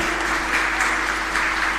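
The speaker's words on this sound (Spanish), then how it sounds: "Vamos a darle un fuerte aplauso" Steady applause from a church congregation during a live Mass at San José Obrero parish in Asunción, dense even clapping with no talk over it.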